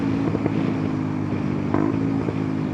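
Kawasaki Ninja 125 motorcycle engine under riding, a steady mid-pitched drone with harmonic whine and wind rush, holding fairly even with small shifts in pitch near the end, no talking.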